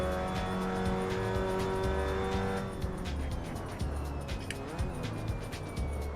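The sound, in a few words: MX5 Cup car throttle blip and downshift, VR racing game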